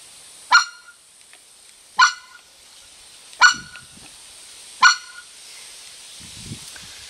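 A white-fronted goose call is imitated, likely on a goose caller, as four sharp, evenly spaced honking notes about one and a half seconds apart, close and loud against a quiet background.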